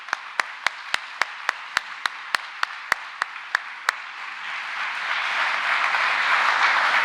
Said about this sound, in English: Let us give them again another round of applause.